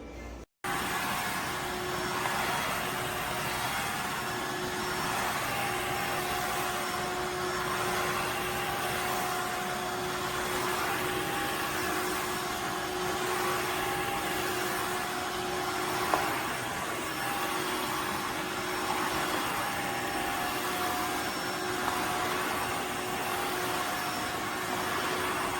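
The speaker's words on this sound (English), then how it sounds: "Alright, I'm gonna try my new steam vacuum. Floor 1 S3 model." A Tineco iFLOOR 3 Breeze cordless wet-dry floor cleaner runs close and loud with a steady motor whine and airy suction that holds without a break for the whole stretch, with no talking over it.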